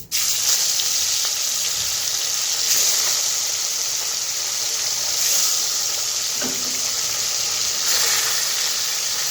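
Koi fish frying in hot oil with black cumin seeds, a loud steady sizzle that carries through the whole stretch with a few brief clinks and spatters.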